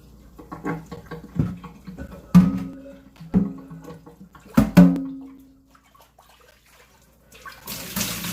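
Tap water runs in bursts at a kitchen sink while soap is rinsed from cookware, with splashing clatter and gushes that fade to near silence before a final rush of flow.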